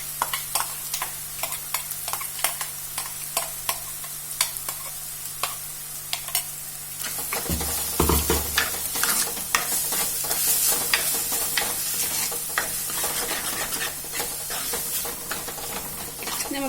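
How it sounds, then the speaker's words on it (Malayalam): Ground coconut paste sautéed in a pan for Kerala-style moringa leaf curry, a close sizzle under repeated scraping stirs, briefly louder as the paste hits the oil, with no talking. "ഒരു 2 മിനിറ്റ് ഒന്ന് വഴറ്റണം"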